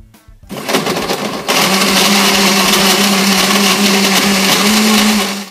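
A blender whirs up lemons and other lemonade ingredients, starting with a short rough buzz before rising into a loud, steady high whine that holds close and constant to the end.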